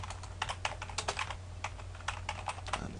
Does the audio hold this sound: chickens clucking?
no